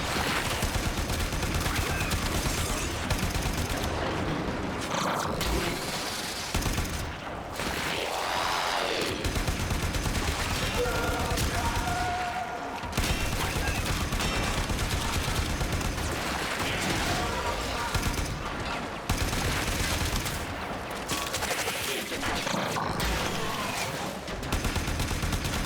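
Sustained video game gunfire, dense and continuous with rapid automatic bursts and explosive cracks across the whole stretch, loud and close, with brief dips between volleys.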